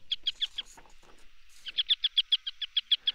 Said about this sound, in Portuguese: No matagal há pequenas aves ingênuas acabadas de sair dos ninhos.